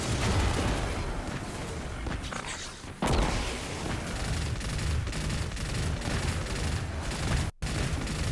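Sustained machine gun fire in the mobile version of Destiny, loud dense rattling with booming impacts, one sharp cut near the end, no talk over it.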